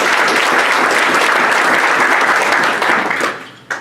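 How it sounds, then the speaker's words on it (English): Audience applause at a chamber of commerce legislative forum, steady dense clapping that holds loud for about three seconds, then tapers off quickly to a final few claps. "give him another round of applause"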